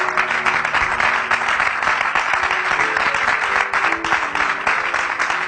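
A church congregation claps and cheers together, a thick, continuous burst of applause that stays loud and even, with faint voices and a sustained tone running underneath.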